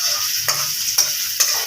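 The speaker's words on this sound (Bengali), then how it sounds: "এখন পেঁয়াজ কাঁচামরিচ কেটে রাখা ছিল সেগুলো দেওয়া হচ্ছে" Chopped onions and green chilies frying in hot oil for a Bengali potato and pointed gourd curry, a steady close sizzle with three sharp stirring taps at even intervals.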